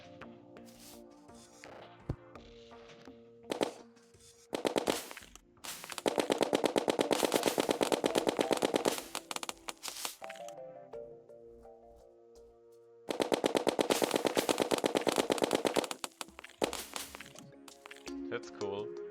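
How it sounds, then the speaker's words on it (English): A snowball launcher in Terraria fires in long rapid bursts of sharp, evenly spaced shots, stopping and starting amid chiming game effects and music. "Snowball launcher."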